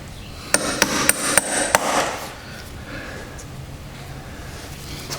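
A hammer taps a punch to stake the front sprocket nut on a 2020 Yamaha R1, five sharp close metallic strikes in quick succession, then quiet workshop background.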